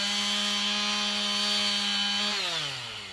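A chainsaw cutting firewood in a field near a fence, its engine holding a steady buzzing pitch before dropping as the throttle eases, close and fairly loud with no talking.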